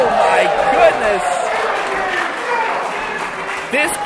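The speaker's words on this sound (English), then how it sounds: "This crowd is appreciating the match." Wrestling crowd at a 2PW pro wrestling show applauding a match, steady clapping and cheering filling the room with a commentator talking over it and a sharp thud near the end.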